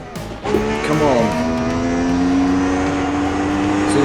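Race car engine in the Assetto Corsa racing game on the 1979 Österreichring circuit, revving loudly and holding a steady high whine as the gear changes, with a brief burst and tire noise near the start.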